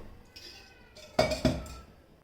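A spoonful of oil goes into a pan while cooking a Navratri fasting dish of varai rice: a faint scrape, then two sharp metallic clinks of spoon against pan, close and brief.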